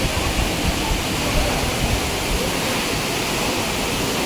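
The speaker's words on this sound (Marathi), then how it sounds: "बापरे, हा धबधबा आधीच्या धबधब्यापेक्षाही खूप मोठा आहे." Vasundhara waterfall at Bhandardara roars as a steady, loud, broadband rush of falling water, close and continuous throughout with no pauses.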